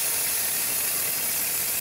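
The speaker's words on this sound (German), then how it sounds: "Mit dem Feuerlöschspray lässt sich dieser Brand allerdings ganz einfach und sicher löschen." A fire extinguisher spray foam can sends out a loud, steady, close hiss onto a burning toaster, running continuously before stopping abruptly near the end.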